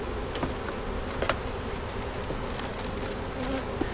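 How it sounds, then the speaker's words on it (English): Honeybees buzz steadily close by, a dense droning hum with a few individual insects zipping past louder now and then. "I've got a few bees up here still."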